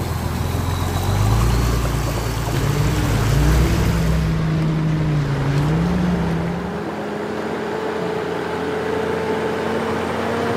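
A 4WD vehicle crosses a creek on a steep mountain track in the Victorian High Country, its engine droning low and steady with a rising and falling note as water rushes around it and wind sweeps over the microphone.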